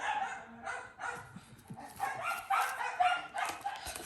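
Several dogs bark and yip in short bursts from a home craft room, moderately loud and fairly close, with a repeated irregular rhythm over a few seconds and no talk.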